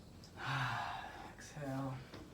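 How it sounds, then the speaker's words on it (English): During a Kinetic Release Therapy session, a person takes a deep, audible breath in: a soft, close, breathy rush with a slight voiced edge, followed by a second shorter intake, alone without speech. "Deep breath in."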